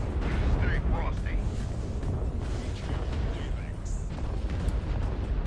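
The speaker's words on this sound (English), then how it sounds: "Too many artillery strike on me." Artillery strikes exploding around a mech in MechWarrior Online, a continuous heavy rumble of blasts and booms layered with game voice callouts and chatter.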